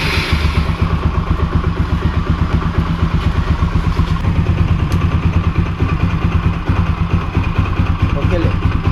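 A motorcycle started with the key settles into a steady idle, its close, continuous low engine chug and light clatter running throughout without a break.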